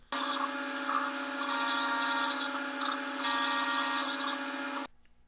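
A CNC mill with a Masso G3 Touch controller cuts vise hold-down clamp blocks, a loud steady high whine with shifting overtones for about five seconds before stopping abruptly.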